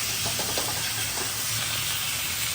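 Steak searing in a hot pan while being cooked for pepper steak, giving a steady, loud, close sizzle and hiss that fills the whole moment without any talking.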